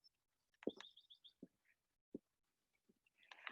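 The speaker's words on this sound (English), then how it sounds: "You can hear the birds chirping." A few sparse bird chirps and short tweets sound faintly at a distance, separated by quiet gaps and soft clicks.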